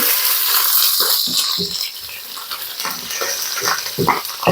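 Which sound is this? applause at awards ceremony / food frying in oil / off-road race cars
food frying in oil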